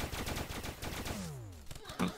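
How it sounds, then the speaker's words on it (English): Rapid bursts of enemy gunfire in Starbound rattle steadily for about a second, then give way to falling whistling tones and a few scattered sharp hits. "They got guns! They got guns! They are not friendlies"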